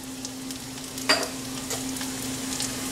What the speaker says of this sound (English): I am going to add dry chilies and cumin seeds